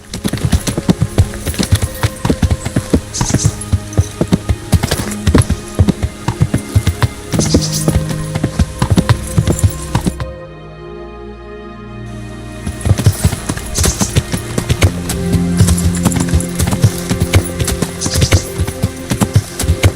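Horse hooves clip-clop steadily in Kingdom Come: Deliverance, loud, close and rhythmic, stopping briefly midway before the trotting resumes at the same pace.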